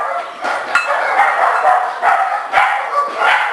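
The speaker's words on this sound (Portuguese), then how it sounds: "O cachorro tá falando." A household dog barking in quick repeated bursts, fairly close and loud, over a constant background hum.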